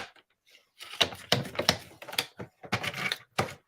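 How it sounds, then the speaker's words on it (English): Scissors make a run of sharp, close snips, several quick clicks and cuts in an uneven rhythm with short pauses between them, heard alone in a quiet room. "Right, scissors."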